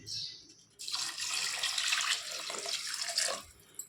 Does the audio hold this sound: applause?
no